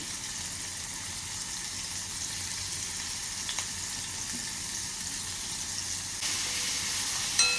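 Ground green chilies frying in oil with asafoetida for a methi bhaji, a steady low sizzle and bubbling hiss heard up close, with a faint click midway and a brighter burst of sizzling near the end.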